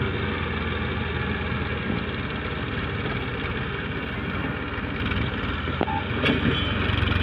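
A tractor engine runs steadily in a farm field, a low continuous rumble heard up close with no break, accompanied by faint background noise.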